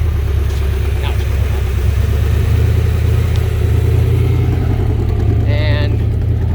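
An old race jeep engine runs steadily close by, a deep continuous rumbling idle with low throbbing pulses throughout, and no talk over it.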